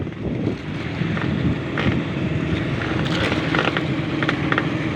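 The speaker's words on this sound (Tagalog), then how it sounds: "Malaking bangka rin naman tong humila, dalawang makina." A large two-engine boat tows at sea through big waves, its engines giving a steady low rumble under constant roaring wind buffeting the microphone and rushing water, continuous and loud with no voices.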